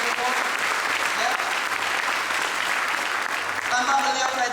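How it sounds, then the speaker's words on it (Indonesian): Audience applause fills a hall at a Crown Ambassador night event in Sidoarjo, Indonesia: dense, steady clapping from a large crowd, sustained and fairly loud throughout, swelling slightly near the end. "Ini sangat layak sekali Anda berikan tepuk tangan yang ikhlas buat seseorang ini"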